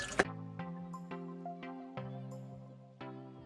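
Drained liquid from deer meat being prepared for Ghanaian soup drips close by into a container, a handful of distinct resonant drops spaced out over a few seconds.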